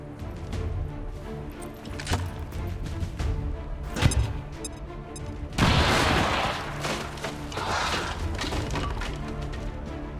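In XCOM 2, a thrown grenade goes off amid battle noise. Scattered sharp cracks and impacts lead into a loud, broad explosive burst with a crumbling tail, then further debris clatter and distant shots.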